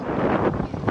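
Wind gusting at Ngong Ping Village in Hong Kong on a cool day, a steady broadband rush buffeting the microphone for about a second, with no voices.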